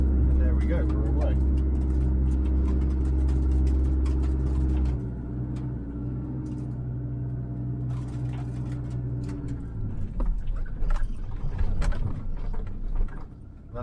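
An Isuzu Mu Wizard grinds off-road in four-high four-wheel drive, its engine a loud, steady low drone that drops in pitch midway, then rough jolting and rattling from the body over the terrain.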